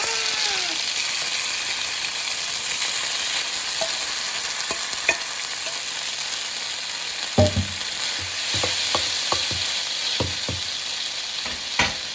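Garlic and noodles fry and sizzle in a pan for Thai Pad Mee Korat, a steady loud hiss broken by sharp clicks and scrapes of stirring, with no talking.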